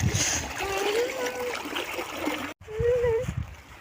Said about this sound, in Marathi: आता सिद्धी पाणी खेळायला आली बरोबर पाणी उन्हात